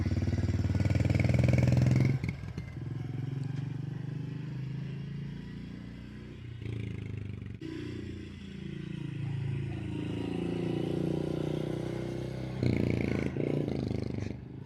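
A 2021 Honda CRF 110 kids' dirt bike rides around in second gear, its small single-cylinder engine buzzing steadily and rising and falling with the throttle, moderately close.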